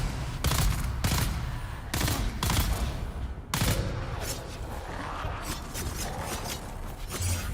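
Rapid bursts of automatic gunfire in the video game Dune Awakening, loud and close, with repeated volleys and sharp shots over a continuous din of combat.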